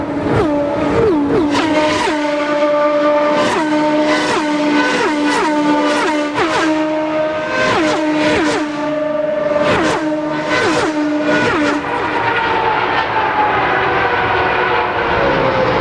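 Indy 500 race cars speed around the Indianapolis track in 1993, with a rapid run of high-pitched engine whines that rise and fall in pitch as each car passes by.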